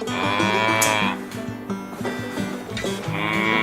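Cows on a farm in Scoresby, Melbourne, moo loudly and close, with several long overlapping lowing calls filling the clip and no talking.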